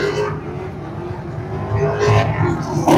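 A Mazda RX-7 car engine hums and revs in a steady drone that rises slightly toward the end, loud and close, with faint voices in the background.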